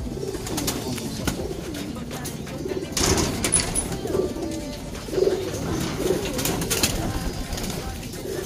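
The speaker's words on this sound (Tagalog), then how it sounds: "nasa taas yung mga ibon natin" Racing pigeons coo softly in a loft, low throaty calls repeating through a few seconds of background bustle, with someone talking in the clip.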